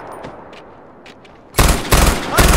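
Gunfire in Far Cry 4, a few faint scattered shots and then loud close bursts of rapid automatic fire that come in quick clusters.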